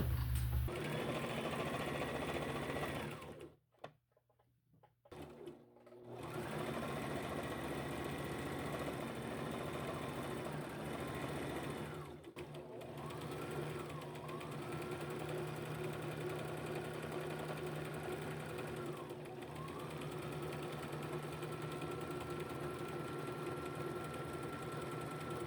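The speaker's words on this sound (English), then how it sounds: "We are going to now sew the band to the top using a 5/8 of an inch seam allowance" A sewing machine runs steadily as it stitches a band onto a B6859 top with a 5/8 inch seam, a loud continuous motor whir that breaks off briefly for a pause before starting up again and running on.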